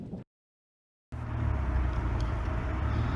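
Car driving down Menlo Way, a residential road in Redding, California, amid wildfire evacuation areas, a steady close low rumble of engine and road noise that starts after a brief silence.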